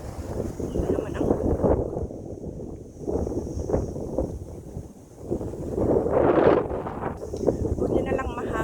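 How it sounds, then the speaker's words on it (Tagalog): Gusty wind on a mountainside, rumbling bursts against the microphone rising and falling throughout, with people talking under it. "buti na lang mahangin"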